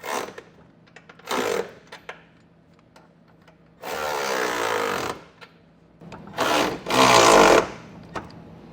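A socket tool runs in short buzzing bursts while tightening the passenger-side hardware of a Curt trailer hitch receiver, several separate ratcheting or whirring spells with quiet gaps between them and no talk.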